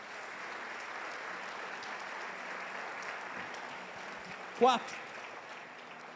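A church congregation applauds, a broad steady wash of clapping from a crowd at moderate distance, with a brief spoken word cutting through near the end.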